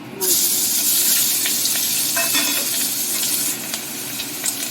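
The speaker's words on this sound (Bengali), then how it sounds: "এবার দিয়ে দিচ্ছি কুচিয়ে রাখা পেঁয়াজ আর চেরা কাঁচা" Chopped onion and slit green chilli hit hot oil for a Bengali rui fish curry, setting off a loud, steady sizzle and hiss close by, with light stirring clinks throughout.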